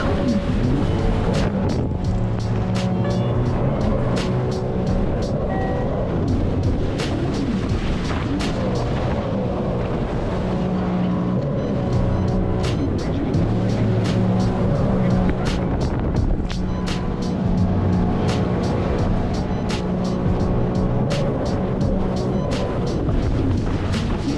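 Sea-Doo GTI 170 personal watercraft engine roaring steadily through a tight turn on the water, with constant spray and wind noise and brief voices over it.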